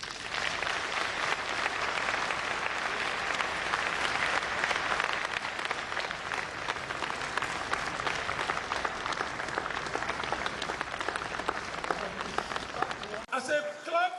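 Sustained, dense applause from a large audience at a civil service lecture, loud and steady for about thirteen seconds before cutting off abruptly, with a few voices audible at the very end.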